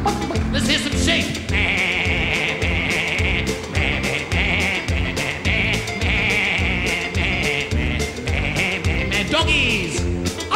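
Children's voices imitate sheep, bleating in repeated bursts over lively band music at a live children's concert.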